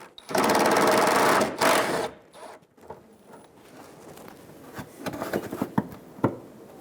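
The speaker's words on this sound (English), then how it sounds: "Using a 10mm socket, remove the bolt out of the corner of the bumper." A power tool with a 10 mm socket whirs loudly for about two seconds as it backs a bolt out of the bumper corner on a 2007-2011 Toyota Camry, followed by softer ticks and rattles of handling.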